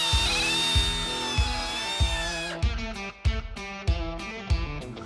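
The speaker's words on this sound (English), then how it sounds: "The original T-slot bolts are 5/16, so we're going to drill it out to 3/8 of an inch." A power drill bores out bracket holes to 3/8 inch while fitting coilovers to a 1965 Mustang. It gives a steady high whine that drops into a chattering, stuttering grind with repeated bites as the bit cuts, up close.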